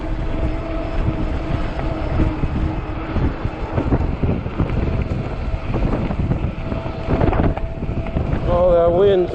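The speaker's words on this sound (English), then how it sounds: "Oh, that wind sucks." Strong cold wind roars and buffets against the microphone while riding a 20-inch 48V fat-tire e-bike, a steady low rumble with gusty swells throughout.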